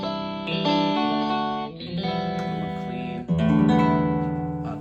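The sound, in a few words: AeroBand smart guitar playing an electric guitar tone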